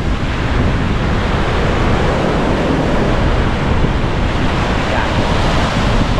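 Rough water current and waves churn during Typhoon Opong at Bucana, Batangas, a loud unbroken rush of surf mixed with heavy wind buffeting the microphone.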